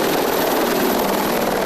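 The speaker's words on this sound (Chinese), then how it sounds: "最新影片还秀出俄军米35和米28直升机出任务" Russian Mi-35 and Mi-28 military attack helicopters flying, a steady loud rotor and turbine roar with a constant high whine, continuous and close throughout with no voices.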